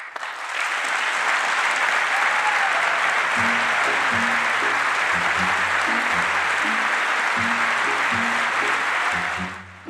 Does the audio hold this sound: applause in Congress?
yes